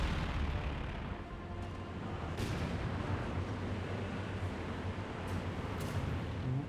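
Allied artillery barrage in Company of Heroes 2, a dense, continuous rumble of distant shelling with scattered sharper bursts, steady and loud throughout without talk.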